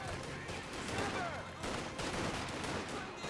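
MG42 machine gun fire in the real-time strategy game Company of Heroes 2, rattling bursts mixed with other battlefield shots at moderate distance, fairly quiet throughout.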